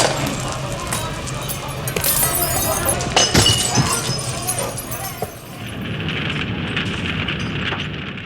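Windows being smashed during a night of rioting, heard as a loud, continuous crash of shattering and breaking glass with scattered clinking shards and a dense roar behind it.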